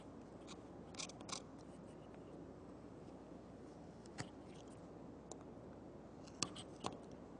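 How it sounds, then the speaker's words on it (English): A knife whittles wood, carving a ball on a peg, producing scattered close scraping cuts and occasional sharp snicks over a soft steady background, no talking. "we cut down toward the center so that the ball is sitting on a peg"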